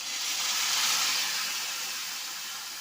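Bay leaf and whole dried red chilli tempering in hot oil, a steady bright sizzle and hiss close up, fading slightly, with no talking.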